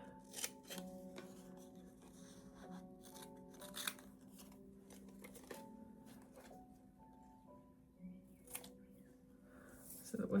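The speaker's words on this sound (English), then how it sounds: "What I'm going to do is I'm going to cut round it." Scissors cutting round a self-adhesive sticker from a book nook kit, a quiet series of separate crisp snips and paper rustles spaced irregularly, with faint background tones and no talk.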